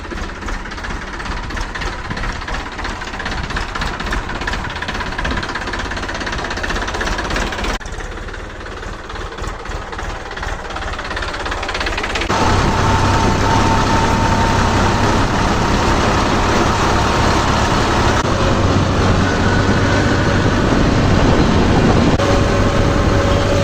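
A tractor engine runs on the way to sow urad beans, a loud, steady rumbling drone that grows heavier and deeper about halfway through and holds to the end.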